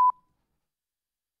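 A single short electronic beep tone sounds once at the very start, loud and clean, then cuts off into silence.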